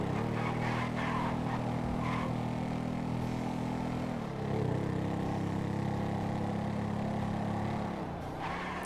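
A motorcycle engine in GTA 5 drones steadily while cornering, its pitch dipping and rising as the rider eases off and accelerates again, close and loud throughout.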